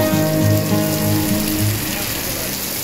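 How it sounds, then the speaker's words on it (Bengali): Heavy rain pours at MG Market in Gangtok, a dense, steady hiss of drops hitting the ground and roofs, loud and continuous throughout with no break. "মুষলধারে বৃষ্টি হচ্ছে"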